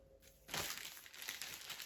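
A plastic parcel bag crinkles and rustles continuously as items are pushed back inside it during an unboxing of a postal parcel, close and steady with no talk.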